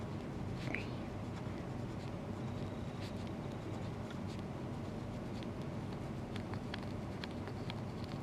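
A pencil writes small numbers on a graph with a faint, steady scratching, soft and close against a constant low room hum.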